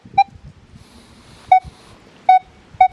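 Four short, clear electronic beeps at a mid pitch from a metal detector set to speed 5 ring out at uneven intervals over faint wind rumble.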